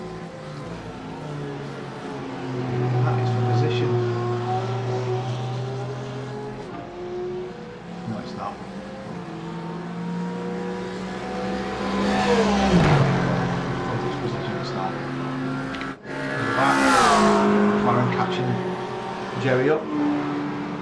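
A BMW and a Mercedes race cars lapping Bathurst, engines roaring continuously with rising and falling revs as cars pass close by, under steady race commentary.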